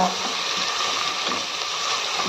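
A medium tomato fries in a pan for pesara pappu pongal, giving a steady, close, dense sizzle that holds level throughout.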